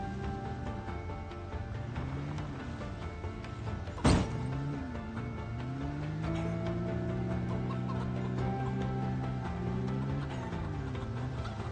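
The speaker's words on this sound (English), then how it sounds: "I need to get these birds out of here. Their noises are going to drive me insane." Chickens in the video game Project Zomboid clucking steadily and close, rising and falling calls repeating throughout, with one brief sharp click partway through and no talk.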